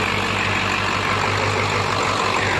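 A Ford Excursion's 7.3 diesel with 180cc, 30% nozzle injectors idles steadily, a loud, even low rumble with diesel clatter and no voices.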